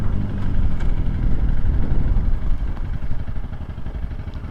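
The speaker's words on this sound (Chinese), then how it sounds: "这台车子它是使用单缸的引擎啊，所以说你在拉高转的时候的震动感就不用我讲了" A Honda CRF300L single-cylinder motorcycle engine revs hard at high rpm, giving a steady, close, loud, buzzing drone with rapid rough pulsing throughout.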